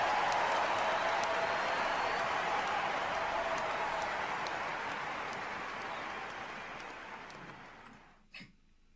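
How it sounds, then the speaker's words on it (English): A tennis crowd at the French Open cheers and applauds in a broad, steady roar that fills most of the stretch, then gradually fades away toward the end, leaving a brief final sound. "The crowd gave some sort of a cheer."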